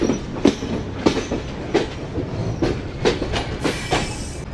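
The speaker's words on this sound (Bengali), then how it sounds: "এখন আমাদের ট্রেন" A train rolling along the tracks into Jessore Junction, Bangladesh, on the Kolkata to Dhaka route, with a rhythmic clickety-clack of wheels over rail joints and a steady rumble, heard from inside the carriage.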